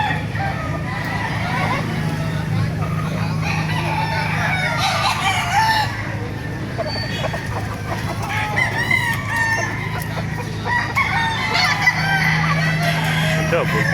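Many roosters crow and hens cluck loudly and continuously at a busy chicken market in Baliuag, Bulacan, with a murmur of crowd voices and talk running under the birds throughout.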